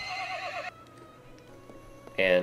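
A horse in Mount and Blade: Warband whinnies loudly at the start, then faint game ambience and soft tones follow before another sharp, bright neigh bursts in at the end.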